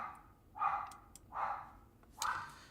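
A dog barking from upstairs in a house, three muffled barks spaced nearly a second apart, moderately distant and alone with no talking.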